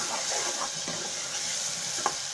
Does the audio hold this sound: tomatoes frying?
yes